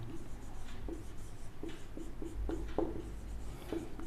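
Pen or chalk writing out a maths induction problem in a class lesson, a string of short scratchy strokes and taps at an uneven pace, close and moderately loud, with no talking.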